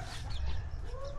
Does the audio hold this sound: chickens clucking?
yes